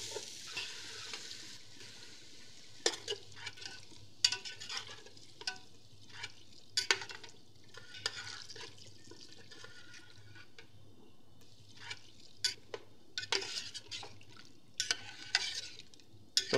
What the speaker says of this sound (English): Gradually add the cooking liquid,